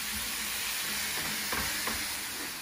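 Bolognese sauce base sizzles steadily in a pan, a dense hissing fry with a couple of faint stirring clicks, close and continuous with no talking.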